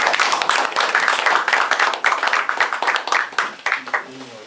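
An audience applauds at the opening of a special lecture on happiness politics and economics, with dense, steady clapping lasting about four seconds and a voice starting faintly at the end.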